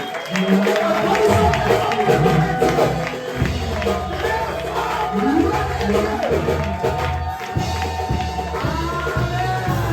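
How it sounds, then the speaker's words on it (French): Church congregation applauding during a prophetic worship service, sustained clapping and crowd noise mixed with loud music throughout. "l'église nous en applaudit très fort pour la gloire de Dieu"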